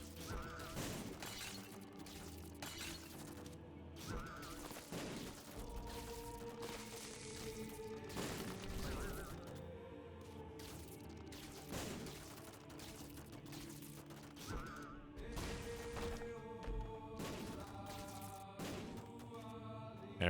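Sad bombs exploding in The Binding of Isaac Repentance+, a chaotic run of repeated blasts and shattering bursts with scattered tear sounds over game music, steady and busy throughout.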